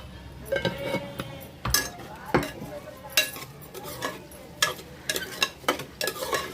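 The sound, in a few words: stirring and sautéing rice with vegetables in a pan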